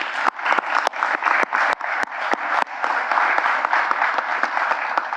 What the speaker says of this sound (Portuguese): Vamos dar uma salva de palmas a essa gente.